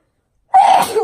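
A single sharp sneeze bursts out after silence during a casual chat discussion, loud and close, with a brief trailing exhale and no talking over it.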